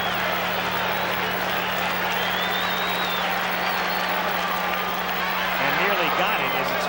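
Baseball stadium crowd at the 1985 World Series, the Royals at bat, roaring steadily with applause and cheers as it urges a strikeout; a broadcaster's voice runs faintly beneath the dense, continuous noise.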